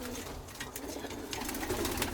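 Birmingham Roller pigeons in a loft, an almond cock bird and a blue grizzle hen, give soft, low, rolling coos that repeat close by, with light rustling around them.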